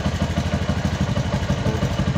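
A Yamaha Jupiter MX motorcycle engine idles after running for a while, a steady, rhythmic, close-up putter with light mechanical clatter and no voices.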